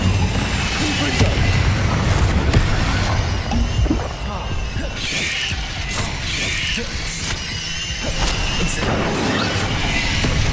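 Confringo blasting spells in a wizard video game: a dense, continuous barrage of booming explosions and crackling bursts, loud and close, with a voice talking over the chaos.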